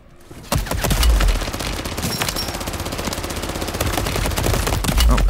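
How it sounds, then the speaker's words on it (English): Sentry guns in Modern Warfare Zombies fire in a rapid, continuous automatic burst lasting several seconds, loud and close, with occasional deeper thumps underneath. "Oh, I forgot about the sentry guns."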